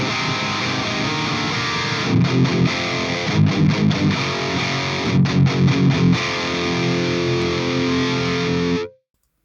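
A distorted, high-gain electric guitar lead tone from an Engl Savage MKII amp simulator's lead channel plays sustained chords with a few choppy rhythmic bursts, then rings out and cuts off abruptly.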